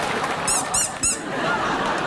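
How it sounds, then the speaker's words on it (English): Three quick high squeaks from a squeezed plastic squeaky toy, evenly spaced over half a second against a busy, noisy studio background. "We also have a squeaky toy."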